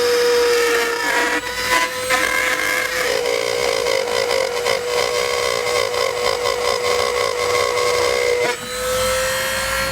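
A power tool cuts a section out of a plastic bumper fascia during a trailer hitch and wiring install, a loud, close, continuous whining and rasping cut lasting about ten seconds with a slight pitch shift near the end.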